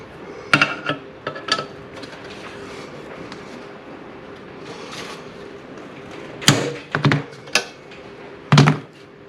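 A hammer strikes a transfer punch to mark a hole in metal, with sharp metallic knocks in short clusters: a few early blows, a quiet gap, then several more hard hits near the end.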